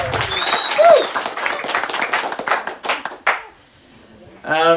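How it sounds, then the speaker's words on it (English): Reception guests applauding together for the cook, a dense burst of hand clapping with a few voices mixed in, tapering off after about three seconds before someone starts speaking. "Please stand and clap for Sandy."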